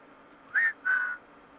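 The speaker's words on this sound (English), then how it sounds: "so I, whistle at the computer's microphone" In the video game Wasteland 3, a character whistles a code into a computer's microphone: two short, clear whistled tones, the second slightly longer, heard up close with no talking.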